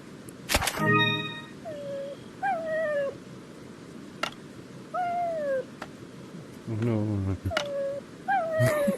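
A drawn-out, cat-like yowling repeats several times in a Resident Evil 4 scene on Meta Quest 3, with rising and falling wails and occasional sharp thuds between them.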